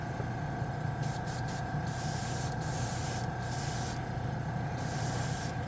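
An airbrush sprays Dspiae chrome model paint at 20 psi, a steady close hiss that runs the whole time with brief louder bursts over a constant compressor hum, and nobody speaks.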